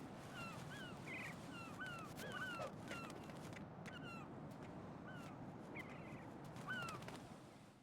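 Birds caw repeatedly in Metal Gear Solid 2, their short rising calls coming in scattered clusters over a faint, low background hum, soft and somewhat distant, with no talking.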